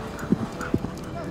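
A couple of hoof clops from an American Saddlebred stallion on hard ground, brief and fairly close over a steady background hum.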